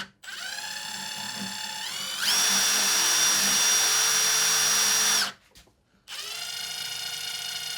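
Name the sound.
drill bit scratching a watch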